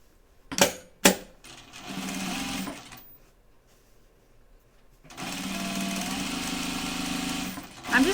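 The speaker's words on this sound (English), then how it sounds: "I'm just double stitching this like the instructions say." A sewing machine double stitches a pocket on a Noodlehead Hillside tote bag, running in steady sustained bursts, with a couple of sharp clicks near the start and a long continuous stretch of stitching at the end.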